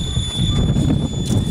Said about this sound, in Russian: датчик холостого хода, наверное, это он, о, слышь, орёт